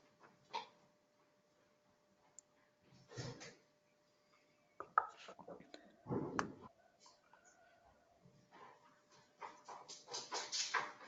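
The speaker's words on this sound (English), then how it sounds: "my dog's barking" A dog barks and whimpers indoors in short, scattered bursts, fairly faint and spread across long quiet gaps, with a few light clatters.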